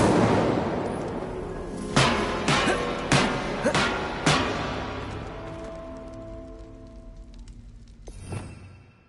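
An Incendio fire spell in Hogwarts Legacy sets off a series of sharp booming bursts in quick succession, then the crackle fades into a quieter tail with a last burst near the end.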